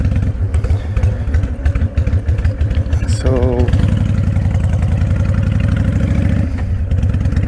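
A motorcycle engine runs steadily with a throbbing, pulsing drone while riding, close and loud throughout, with someone talking over it.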